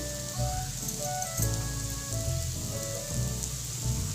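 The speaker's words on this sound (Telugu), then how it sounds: "ఇప్పుడు మనం ఆయిల్ అయితే వేసుకుందాం." Oil sizzles in a hot pan while pesarattu, a green gram dosa, is being made, giving a steady, soft crackling hiss with faint intermittent pops and no talk.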